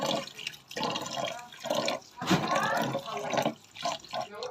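Water splashing and sloshing while jackfruit flowers are washed by hand, in uneven close bursts with short gaps between them.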